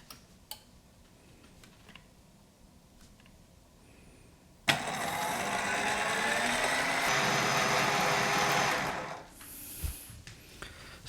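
An IcyTreat or Ninja Creami ice cream maker starts up abruptly and runs with a steady, loud whirring drone for about five seconds, then cuts off, leaving faint clicks and handling noises.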